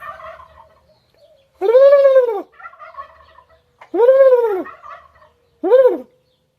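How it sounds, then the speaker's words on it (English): Wild turkeys gobbling outdoors, three loud rolling gobbles in separate bursts with quieter clucking calls between them, fairly close and otherwise quiet. "Turkeys."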